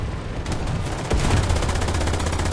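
Sustained gunfire in a game simulation of a Ju 87 G aircraft: a dense, continuous crackle of rapid shots with a heavy low boom near the midpoint, loud and steady throughout with no talk.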